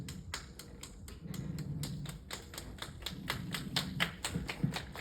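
A group of people click their fingers quietly together, a steady train of sharp, light snaps repeating in an uneven rhythm over a soft background murmur.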